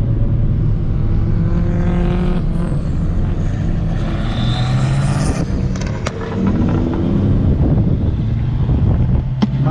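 Engine drone and heavy wind buffeting from a car driving through busy street traffic, loud and continuous for about ten seconds, with gusty rumble and occasional sharper bursts as other vehicles pass nearby.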